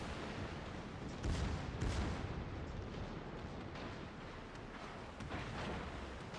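Heavy ship guns of the battleship Vittorio Veneto booming in a naval battle video game, two loud bursts of broadband gunfire early on, then a continuous rumbling wash of distant cannon fire and explosions.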